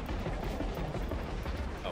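Dense, continuous gunfire from the video game Space Marine 2, a rapid loud barrage with heavy low-end rumble that runs through the whole moment without a break.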